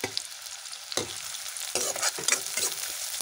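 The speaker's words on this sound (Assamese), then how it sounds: "এইখিনি মই ৰঙচুৱা হোৱালৈকে ভাজি থাকিম এনেকৈ।" Ginger and garlic fry in a pan with a bright, close sizzle, broken by several sharp scraping stirs spaced irregularly through the stretch.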